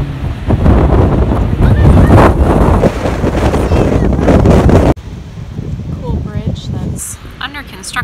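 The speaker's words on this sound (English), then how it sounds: "It's still pretty windy" Strong wind at a beach buffets the microphone in heavy rumbling gusts, easing partway through, with voices heard over it.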